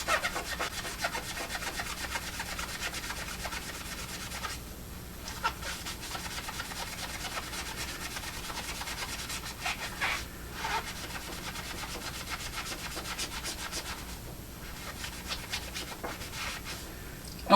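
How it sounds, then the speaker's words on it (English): Magic eraser rubbed steadily over the painted face of a Dobby figure from Party City to lift red coloration, a continuous close scrubbing rasp with brief pauses, no talking. "I read the directions to the magic eraser, and I'm ready to start removing the red coloration from Dobby's face"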